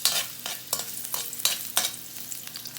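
Ginger sizzles in hot cooking oil in a home kitchen pan while being stirred, a continuous bright frying hiss broken by several sharp scraping stir strokes.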